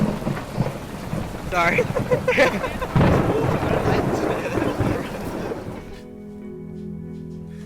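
Heavy rain pours down during an outdoor film shoot, a dense loud roar with rumbling for about six seconds, then it drops away to a quieter tonal hum; a brief spoken word comes through.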